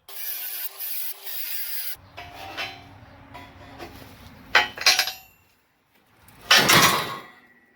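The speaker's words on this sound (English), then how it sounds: "go around and cut these little welds out" Grinding out small tack welds on steel C-channel for a gantry crane build, with harsh metallic scraping, a couple of sharp louder bursts and short silent gaps between cuts.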